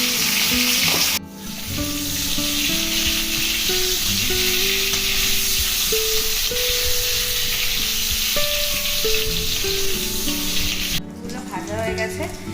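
Mutton for Dhakai kosha mangsho fries loudly in a pan, a dense continuous sizzle with stirring scrapes under background music, cutting in and out at the edges.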